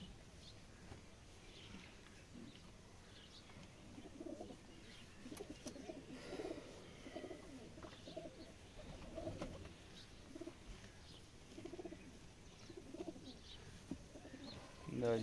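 Soft, low pigeon cooing repeats through the clip, moderately close, at a pigeon-flying tournament, over a steady background hum with some faint chirps.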